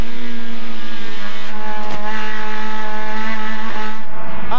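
Onboard a Turismo Pista race car driven by Triviño at La Plata in 2004: a loud, steady engine howl holds a constant high pitch, with a brief rasp and a sudden shift near the end.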